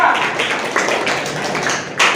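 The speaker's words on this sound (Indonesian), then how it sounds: "Tepuk tangan untuk kelompok 1 dan 2" Classroom applause for two student groups during a teaching practice session, a dense patter of many hands clapping steadily for about two seconds, moderately loud with a brief swell near the end.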